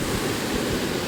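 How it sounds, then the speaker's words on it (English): Strong ocean surf rolls onto the Gulf coast beach at Destin, Florida, a steady broadband wash of breaking waves with a faint wind rumble, continuous and fairly loud, with no voices. "I don't think I've ever seen waves like they have here."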